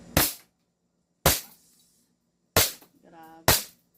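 Four sharp, loud gunshots ring out at a shooting range, unevenly spaced over a few seconds, each a sudden crack with a short decaying tail, and a brief voice sounds between the last two.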